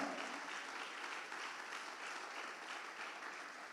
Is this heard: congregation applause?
yes